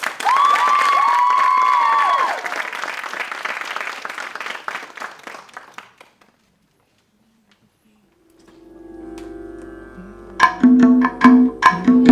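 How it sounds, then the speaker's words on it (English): Applause from the audience at a Bharatanatyam arangetram dance recital, a burst of clapping mixed with a held musical tone that fades out into silence before rhythmic percussive music begins. "Please give Meera a big round of applause."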